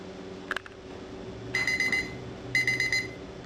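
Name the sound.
board game one-minute timer alarm going off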